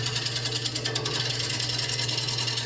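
Wood lathe spinning a cherry salad bowl blank, giving a steady, loud mechanical hum with a faint rhythmic flutter that runs unbroken throughout, with no voices over it.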